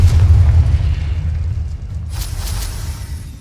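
A Confringo blast spell in Hogwarts Legacy goes off as a loud, deep boom that rumbles and fades, followed by a brief crackling burst near the end.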